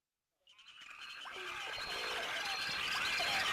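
Dense chorus of many frogs calling together in Indian grassland during the monsoon rains, a continuous loud overlapping din of croaks and chirps that swells in quickly after a brief silence.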